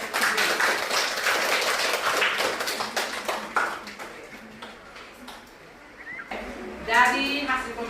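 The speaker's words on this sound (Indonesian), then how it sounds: "Jadi kita berikan aplaus untuk diri kita sendiri." Students in a classroom clap for themselves after group discussion, a dense burst of applause under a teacher's voice at first, then fading before a short second round of clapping near the end.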